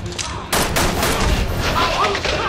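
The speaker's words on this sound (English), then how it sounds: "Nice shooting, Sherry." Gunfire in the video game Resident Evil 6, loud, dense bursts of shots crackling continuously after a brief quieter start, with game noise filling the background.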